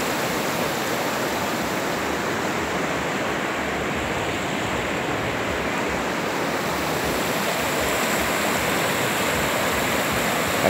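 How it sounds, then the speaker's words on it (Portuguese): Floodwater from a swollen river rushes in a steady, loud, unbroken roar with no pauses, filling the scene with dense noise. "Muita água ainda continua no rio."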